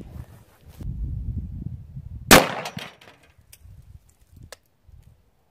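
Gunshot firing orange paint for ballistic art, a single sharp, loud crack that follows a low rumble and fades into a brief echo, with a few faint clicks afterward.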